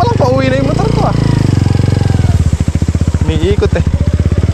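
A motorcycle heads home in heavy monsoon rain near a flooded river crossing; its engine chugs in a steady, close pulsing rhythm beneath someone talking.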